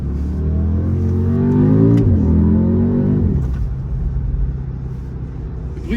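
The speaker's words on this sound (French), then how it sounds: "on entend beaucoup le bruit du moteur et non pas le bruit de l'échappement" An Audi SQ2 engine rumbles loudly from inside the cabin, revving up through rising tones, easing off, then settling into a steady low drone, engine noise dominating over exhaust.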